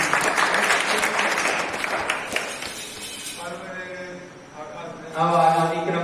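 Audience at a gurukul farewell ceremony clapping loudly for several seconds, the applause thinning out before a voice and music-like tones take over near the end.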